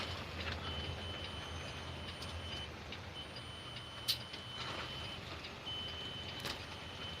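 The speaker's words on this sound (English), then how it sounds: "Y'all hear that angry pre-pass beeping at me?" A pre-pass transponder inside a Peterbilt 579 truck gives a few sharp, brief electronic beeps, faint over a steady low cab rumble.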